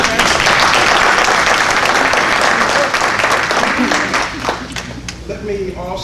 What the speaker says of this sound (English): I want to give Dr. Sterling a hand